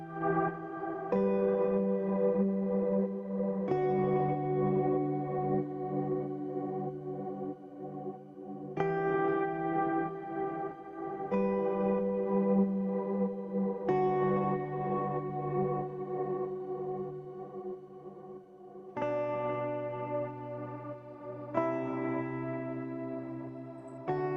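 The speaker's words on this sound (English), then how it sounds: "I actually use this effect here by Waves. It's called the one node pumper." Guitar chords run through a Waves OneKnob Pumper sidechain effect, each sustained chord swelling and ducking in a steady rhythmic pumping, with reverb tails, quiet and alone with no talking.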